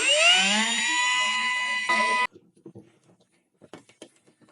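High-pitched rotary grinder whines steadily against a fiberglass fender on a V8-swapped 4Runner for about two seconds, then cuts off sharply, leaving faint handling noises and scattered knocks.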